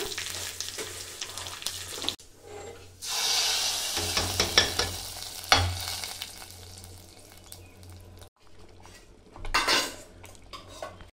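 Mustard seeds, garlic, curry leaves and dried red chillies crackle and sizzle in hot oil alongside metallic clatter of a spoon and pan, with bursts of louder frying.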